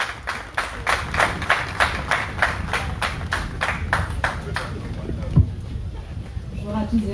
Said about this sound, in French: je vous demande d'applaudir Madame Claire Tessier sur vos applaudissements